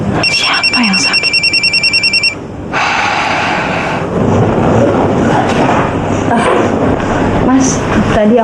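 A telephone rings at home in repeated electronic trills for about two seconds, then gives way to a busy background with a voice.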